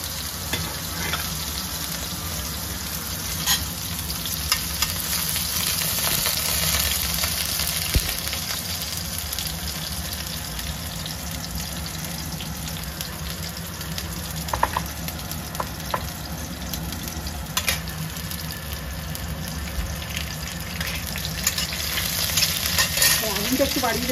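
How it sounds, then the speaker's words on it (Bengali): Onions sizzle and crackle steadily in hot oil in a wok, with occasional scrapes and clinks of stirring, close and continuous with no pause. "এবার আমি কড়াইতে কিছুটা পেঁয়াজ দিয়ে দিলাম"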